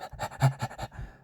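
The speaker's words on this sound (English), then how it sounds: "Sorry about the dog panting in the background." A dog pants rapidly and rhythmically, close by, with quick breathy puffs that trail off at the end.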